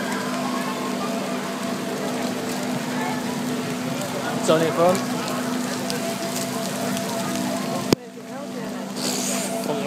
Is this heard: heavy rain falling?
yes